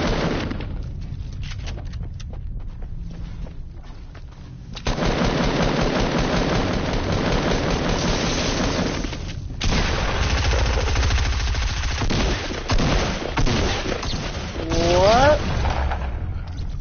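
Video game gunfire in rapid automatic bursts, loud and continuous through most of the stretch, with short pauses between volleys.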